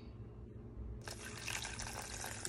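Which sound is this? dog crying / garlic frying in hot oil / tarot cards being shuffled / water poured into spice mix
water poured into spice mix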